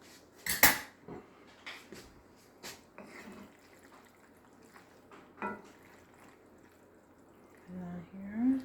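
Chicken alfredo with mushrooms and spinach is spooned onto a plate. Several sharp, close clinks and scrapes of a spoon against dishware come at irregular intervals, with a brief voice near the end.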